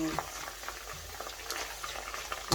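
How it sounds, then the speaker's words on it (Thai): Dried fish strips fry in hot oil with a steady dense sizzle and bubbling crackle, close and continuous, with faint stirring pops. "ยายก็จะมาทอด ทอดปลาเส้น"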